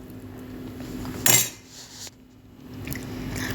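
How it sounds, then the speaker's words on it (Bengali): A metal lid lands on a cooking pan of simmering masala with a single sharp clatter, followed by a quieter clink a moment later, close by over a low background hum. "এবার ঢাকা দিয়ে দিলাম"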